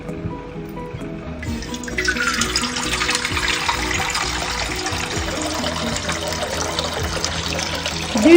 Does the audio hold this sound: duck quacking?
no